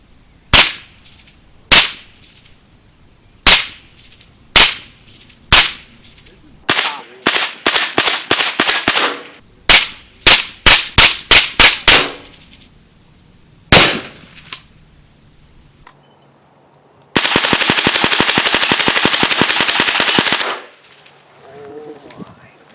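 Gunshots fired at late medieval plate armor ring out as sharp, loud cracks, first singly at a steady pace, then in quick clusters, ending in a rapid sustained volley of fire with no talking.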